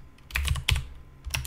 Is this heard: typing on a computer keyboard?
yes